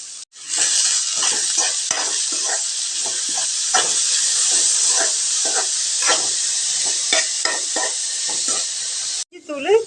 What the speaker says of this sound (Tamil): சின்ன சின்ன கேரட்டுங்க. இது சேர்த்திக்கலாங்க. இதை ஒரு வதக்கிக்கலாங்க.